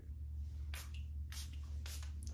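Three quick hissing sprays from a perfume atomizer, evenly spaced, close by, over a low background hum.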